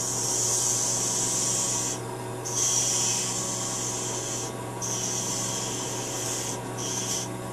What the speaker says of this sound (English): I'm going to use a little square edge tool to define the lip.